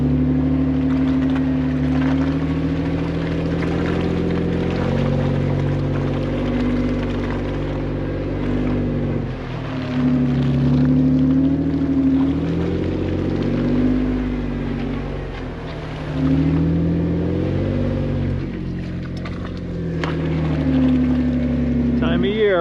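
A side-by-side UTV drives a tight snowy trail, its engine droning and revving steadily with shifting pitch and wind rumble throughout, close and loud, with people talking over it.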